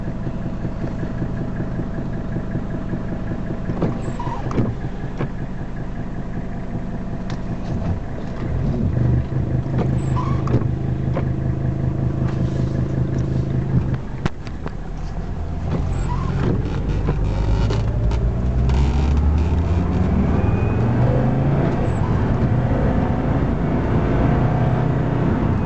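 A 1983 Mercedes-Benz 300D W123 with the OM617 turbo diesel drives and accelerates, a steady mid-range engine drone that swells and climbs in pitch over the last half, heard from inside the car with no talk.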